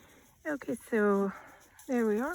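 A dog in the background gives a few short yips and then two longer whining barks, fairly close, while someone speaks over them.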